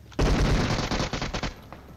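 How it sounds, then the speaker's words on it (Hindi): Gunfire from a bot in a shooter video game: a dense, loud burst of rapid automatic shots starting abruptly, continuing in clustered volleys, then tapering into a few scattered shots and quiet. "यह बॉट भैया हमारे बम में गोलियां मार रहे हैं"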